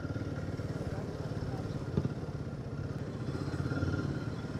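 A Royal Enfield Himalayan 450 motorcycle being ridden, a steady mid-pitched engine drone with a rhythmic pulse and a few clattery bumps, and a faint voice at times under the engine.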